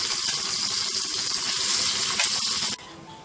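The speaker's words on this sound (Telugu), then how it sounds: "ఆయిల్ కొద్దిగా వేడిన తర్వాత పచ్చి రొయ్యలను వేసుకొని వేయించుకోవాలి." Raw prawns frying in a pan with a little hot oil, a loud close crackling sizzle that runs steadily and then drops away sharply near the end.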